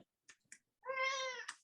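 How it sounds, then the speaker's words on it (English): A pet cat gives a few brief chirps, then a clear, drawn-out meow up close in a quiet room, ending with a short sharp note. "My kitty."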